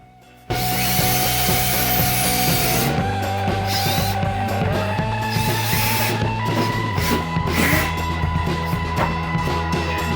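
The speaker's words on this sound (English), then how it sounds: "Pre-drill." A power drill pre-drilling a hole in wood for hanging a shelf, a loud continuous whine with shifting pitch and scraping, running for about ten seconds after a brief quiet start.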